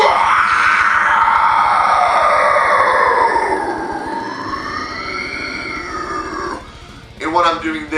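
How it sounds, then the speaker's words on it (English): Vocal warm-up scream that sweeps in pitch from low to high and bends through different tones, loud and sustained for about seven seconds before breaking off into a shorter rough burst. "I'll bend my scream's pitch, go through different levels of tone"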